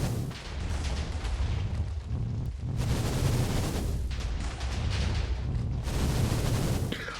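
Explosions in a video game, a heavy sustained barrage of rumbling booms and gunfire with brief dips between bursts, loud and continuous, with no speech heard.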